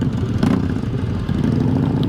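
A Harley-Davidson chopper with a 1450 cc engine and aftermarket exhaust, revving up close in a steady, loud, throaty rumble with a brief surge near the middle.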